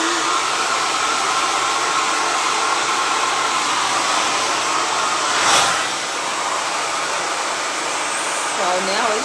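A hair dryer fitted with a diffuser drying curly hair blows with a loud, steady close whir that holds throughout, with a brief louder swell midway.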